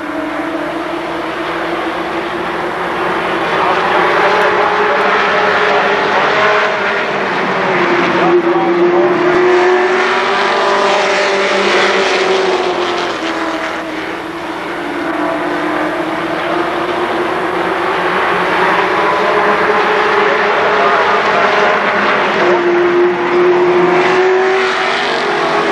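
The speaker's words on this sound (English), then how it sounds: "Green flag comes out and we are racing. Late model heat race, number 1." A pack of late model stock cars roars around a dirt oval in a heat race at Kil Kare Speedway, engines droning and swelling continuously as cars pass, loud and sustained with crowd-track ambience.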